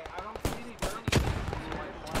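Video game gunfire in an Operation Grenade match, rapid sharp shots cracking in irregular bursts, several loud bangs close together over background commentary and game noise.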